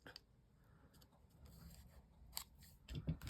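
Scissors trim white paper in a few quiet snips and rustles during a papercraft session, faint and close with no talking.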